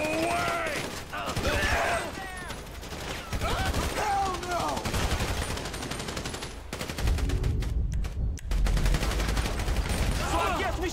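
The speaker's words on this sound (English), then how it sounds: "Shooting our way out of here." Gunfire in Grand Theft Auto V comes as bursts of rapid shots and sustained volleys, while game characters talk and shout throughout.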